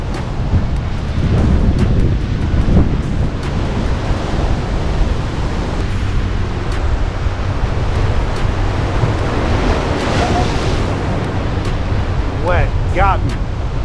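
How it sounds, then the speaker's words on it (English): Ocean waves crashing and surging at Sebastian Inlet, a steady loud roar of surf close by with wind buffeting, and people exclaiming over it. "Oh, the waves are off the chain right now."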